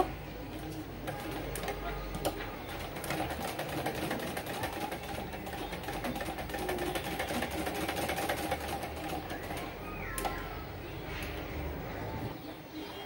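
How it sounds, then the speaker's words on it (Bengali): A sewing machine stitches a one-piece niqab in a steady, soft, continuous run with faint ticking, heard at moderate distance against light room noise. "এখানে আমি প্রথমে সেলাই দেওয়া শুরু করব"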